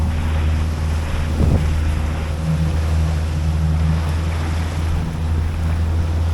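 Rough sea waves wash around a sailboat near Aktur Çomçalık as a storm approaches, under a constant loud rush of wind and a low, rumbling hull drone.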